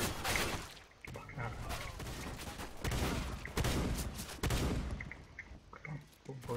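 Gunfire in the game CS:GO during an arms race match: dense, continuous bursts of shots fill the clip, loud and sustained, with brief gaps between volleys.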